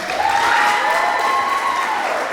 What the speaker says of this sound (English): give them a round of applause as they take the stage